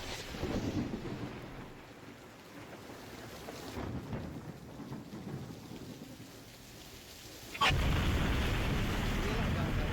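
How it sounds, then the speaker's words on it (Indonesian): Heavy rain pouring at a floating hut near a school in Bekasi, a constant hiss with rumbles of thunder, the downpour swelling to a louder, denser rush in the final seconds. "Baru selesai acara, langsung diguyur hujan."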